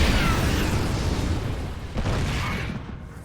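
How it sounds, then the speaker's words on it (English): Siege tanks shelling Colossi in StarCraft 2, heard as a dense, rumbling wash of explosions and bursts with a fresh impact near the middle, steady and loud throughout. "It's the Colossi being targeted by those siege tanks."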